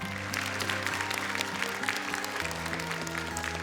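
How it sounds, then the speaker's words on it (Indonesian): An audience at a children's Quran memorization competition applauds a contestant, a dense steady clapping that holds for the whole stretch with no talk over it. "Tepuk tangan untuk Syifa."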